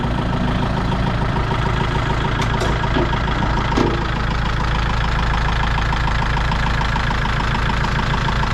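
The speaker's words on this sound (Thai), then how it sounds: "เครื่องเสียงดังพอนะครับผมดังแน่นๆเลยนะ" A Kubota L47 tractor's diesel engine idles with the hood open, a loud, close, steady low rumble with an even knocking pulse and a couple of faint clicks.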